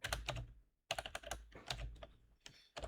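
Rapid typing on a computer keyboard as a redirect URL is entered, in two quick bursts of clattering keystrokes separated by a short pause, close and fairly quiet.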